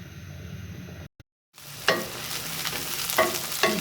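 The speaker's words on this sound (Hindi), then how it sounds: "तो इसमें मैंने अब ऑयल डाला है, और अब हम इसे करने लगे हैं फ्राई" Onions frying in oil for palak chana dal: brief dull noise, a short silence, then a close sizzle rises with spatula stirs and scraping strokes, no voices.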